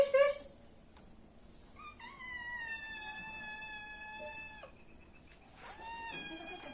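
A hungry cat meows loudly in long, drawn-out, wavering cries, a few in a row with short pauses, close by.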